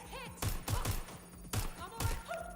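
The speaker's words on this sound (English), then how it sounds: "Suspect is shooting." Gunfire in the video game Watch Dogs: Legion, a burst of about five sharp, loud shots spread over two and a half seconds, with faint chatter and effects in the background.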